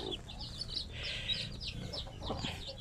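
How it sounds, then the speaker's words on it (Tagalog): A zampen hen and her many chicks clucking and peeping close by, with soft repeated hen clucks under a busy scatter of high chick chirps, no voices. "Yan sisiw na ko, ang dami."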